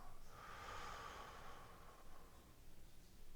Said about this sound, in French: j'inspire par le nez et j'expire par la bouche